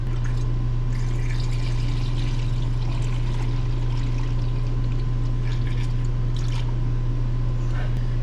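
Coolant pours steadily into the cooling system of a 6.4 Powerstroke diesel with a leaking upper radiator hose, a continuous liquid trickle over the close, constant hum of the idling engine.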